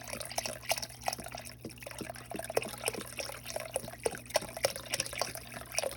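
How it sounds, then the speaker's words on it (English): Water is added to a pot of homemade vegetable soup, with a soft trickle and irregular drips and splashes over a low steady hum in a kitchen. "let's add some more water in"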